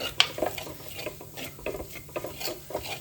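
Masala paste with chili powder and turmeric fries in a pan, a soft sizzle broken by repeated scraping stirs of a spoon against the pan in an uneven rhythm; no speech.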